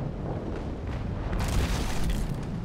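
Ship cannon fire in the naval battle game Naval Action, heard as a dense, continuous rumble of booming broadsides with no distinct gaps, loud and sustained throughout.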